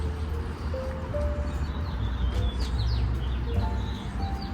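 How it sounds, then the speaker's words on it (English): Birds chirp and tweet in a quiet residential backyard, scattered short calls at moderate distance over a low steady background hum, with no talking. "All you hear is the birds chirping."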